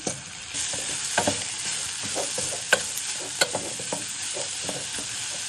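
Onions, carrots, green beans and broccoli sauté in a pot as a continuous bright sizzle, punctuated by irregular clinks and scrapes of a utensil stirring the vegetables, with no one talking.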